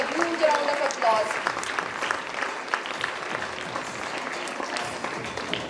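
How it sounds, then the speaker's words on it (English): Parents in an audience applaud a prize winner at a school's annual prize distribution ceremony, moderate clapping with a voice speaking over it near the start, continuing evenly throughout. "Parents, I request you to encourage them with a huge round of applause."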